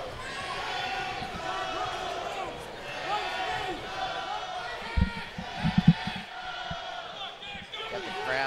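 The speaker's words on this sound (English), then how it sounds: "Got the crowd screaming" Crowd roars and screams at a professional light heavyweight fight between Pinto and Costa, a dense sustained wall of cheering voices with a few sharp thuds near the middle.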